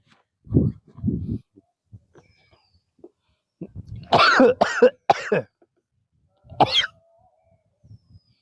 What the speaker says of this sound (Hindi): खांसी होगी भाई।